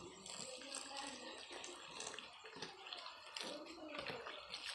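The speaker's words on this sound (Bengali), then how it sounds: "এবার দেখো আমি গরম জলটা আস্তে আস্তে করে দিয়ে দেব" Hot water poured slowly into ration flour dough for soft rotis and parathas, a continuous watery trickle and splash running steadily throughout at moderate level.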